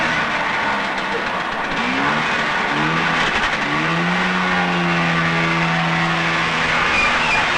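A loaded farm truck pulls away, its engine climbing in pitch through a couple of rising sweeps before settling into a steady drone amid constant background noise.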